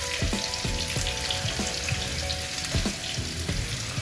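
Garlic and chilies sizzle steadily in a hot pan, with a continuous crackling hiss and frequent small pops and stirring knocks throughout, close and loud, with no voices.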